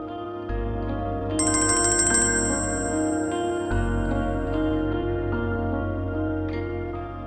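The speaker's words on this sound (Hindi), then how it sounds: "फोन बज रहा है भाई" A phone rings indoors at night in a drama scene, an electronic ringtone with repeating melodic tones and a sustained high beep, moderately loud and steady throughout.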